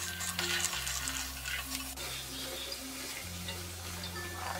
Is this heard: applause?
no